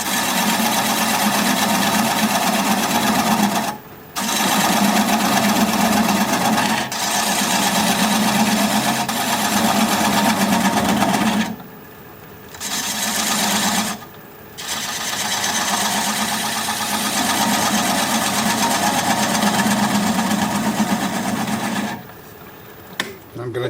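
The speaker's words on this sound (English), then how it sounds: "I'm going to take a 3/8 inch standard grind bowl gouge, and at 500 RPM I'm going to commence to removing the tenon." Wood lathe at 500 RPM turning a spalted sycamore piece while a 3/8 inch standard grind bowl gouge removes the tenon: a steady droning hum with a low buzz, cut by short pauses as the tool lifts off, a voice talking over it.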